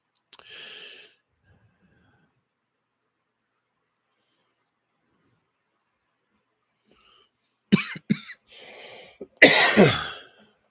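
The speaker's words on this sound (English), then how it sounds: "Sorry about the cough." A short cough early on, then silence, followed by a burst of several harsh coughs and throat clearing close by.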